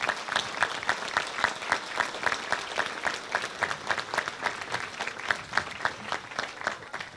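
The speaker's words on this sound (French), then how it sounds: "vous avez applaudi les parents qui les véhiculent" A hall audience at a mayor's New Year address applauds in a loud, sustained rhythmic unison, with even, regularly spaced clap bursts filling the whole stretch.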